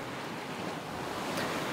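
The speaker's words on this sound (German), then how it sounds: "Und zwar heute mal mit Wind." Wind and ocean waves on a sailboat crossing the Pacific under way at six to seven knots, a steady broadband rush of wind noise and surf, with no voices.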